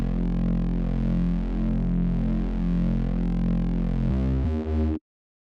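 Deep, distorted synth bass notes programmed in Serum, thick and sustained with a buzzing, effected tone that shifts into a short run of separate repeated notes before cutting off abruptly; no voice.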